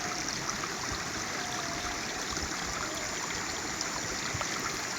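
River stream rushing over large rocks beside an irrigation dam, a steady broadband roar of flowing water close by with no talk.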